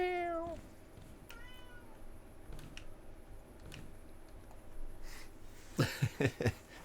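Cat meows in the farming game Farmer's Dynasty 2, a few clear descending cries at the start and again later, then a quick cluster of short sharp sounds near the end, all fairly faint.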